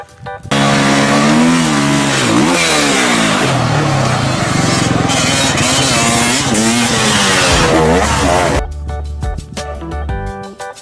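A toy motocross motorcycle gives a loud, continuous buzzing engine roar with rising and falling revs, then cuts off abruptly near the end, leaving quieter background music.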